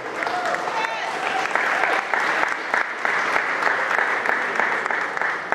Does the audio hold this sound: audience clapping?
yes